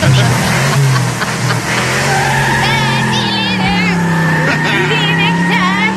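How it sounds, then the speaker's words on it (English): A car's tires screech loudly and continuously for several seconds, a sustained wavering squeal with engine noise beneath it. "I did hear tire screech"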